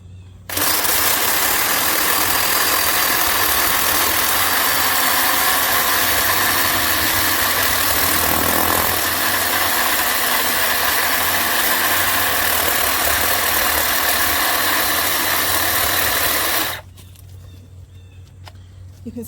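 A chainsaw's engine roars steadily while cutting into a tree, a loud, close, sustained drone lasting about sixteen seconds before cutting off abruptly into quiet.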